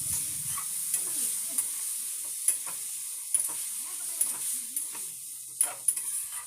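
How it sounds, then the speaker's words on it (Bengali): Mustard and poppy seed paste fries in a pan with a soft, steady sizzle under repeated light spatula taps and scrapes against the pan. "আর এরপর দেখো আমি সরষে আর পোস্ত বাটাটা দিয়ে দিলাম। আর এরপর একটু ভেজে"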